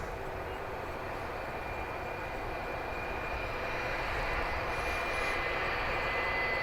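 A Boeing 757 jet airliner at DFW International Airport gives off a steady, broad engine rumble and hiss with a faint high whine, distant and unchanging across the whole stretch.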